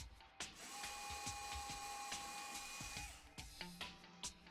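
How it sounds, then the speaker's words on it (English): A small power drill whines in short, repeated bursts while drilling pilot holes for flap hinges on a model aircraft wing, its pitch steady while running, with brief pauses and clicks between runs. "So here I'm drilling the pilot holes for the rest of the flap hinges."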